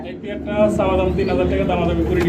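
A male pigeon coos in a steady, low, rolling call, close and fairly loud, while a person talks over it throughout.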